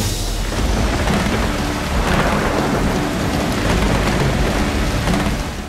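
Heavy thunderstorm with steady pouring rain and rumbling thunder, a dense continuous wash of rain with low booming rolls, loud and close throughout with no voices.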